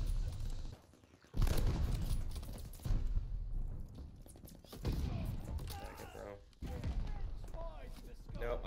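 Kar98K sniper rifle shots in the video game COD: Vanguard, sounding as sharp, heavy cracks mixed with loud battlefield noise, while a player talks over the action.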